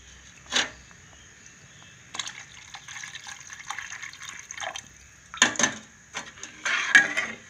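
Tamarind water pours and splashes into a pot of fish curry in irregular bursts, with wet sloshing and drips between them, close and moderately loud, no voices.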